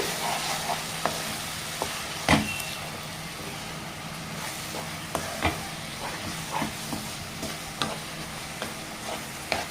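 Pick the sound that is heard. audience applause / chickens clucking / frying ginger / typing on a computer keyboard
frying ginger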